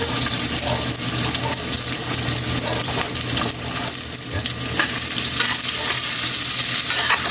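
Garlic frying golden brown in a pan with chili and onion being added, a loud continuous sizzle with scraping and stirring noises throughout, no talk.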